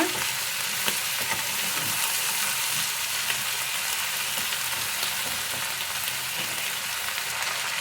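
Little gourd (tondekai) sizzles steadily in a pan, a dense hissing fry with occasional soft stirring scrapes, constant and close throughout.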